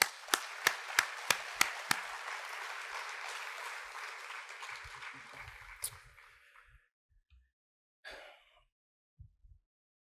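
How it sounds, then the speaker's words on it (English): Audience at an Orange County economic summit applauds local leaders, a few sharp close claps leading into dense crowd clapping that fades out after about six seconds, followed by scattered thumps and a brief noise. "So let's have that applause."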